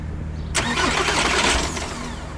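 A car engine cranks and fires on a first start attempt over steady background rumble, catching with a rough, uneven burst that then settles into a mid-pitched running sound, close and fairly loud.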